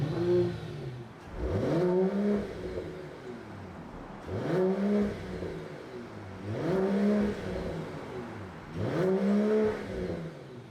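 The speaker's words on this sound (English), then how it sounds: "Now let's see what it revs like in comfort." A Mercedes-AMG E53 Coupé hybrid engine revs in comfort mode in four sharp bursts, each climbing quickly and dropping back to a low idle, spaced a few seconds apart, close and loud.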